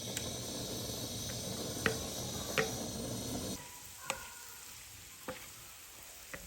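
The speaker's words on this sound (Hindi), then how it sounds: "2 टेबलस्पून ऑयल है और इसमें हम इसको रोस्ट कर लेंगे" Cumin, ajwain and crushed red chili roasting in two tablespoons of oil for samosa filling, a steady faint sizzle with a few soft stirring clicks, quieter after the first few seconds.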